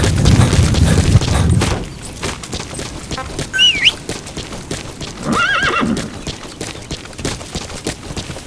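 A horse in the video game Metal Gear Solid V gallops with loud clip-clop hoofbeats, then whinnies twice as the pounding fades, with no talk.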